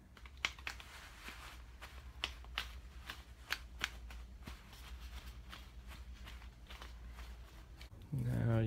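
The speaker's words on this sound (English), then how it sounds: "just kind of patting with a paper towel" A paper towel pats a wet, skinned-look face mask dry in a quick run of soft, papery dabs, close and fairly quiet, ending with a brief muffled thump.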